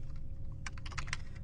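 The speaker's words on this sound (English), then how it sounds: "we reference that by typing in" Typing on a computer keyboard while entering code, a quick run of soft key clicks in the second half over a steady low hum, close and fairly quiet with no talking.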